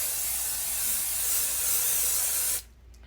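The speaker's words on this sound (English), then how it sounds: "So I am just going to spray it and try to get it as evenly as I can." Apple Brand Gardé Rain protector sprayed onto a Vachetta leather bag, a close, loud, continuous aerosol hiss lasting about two and a half seconds before stopping abruptly into quiet.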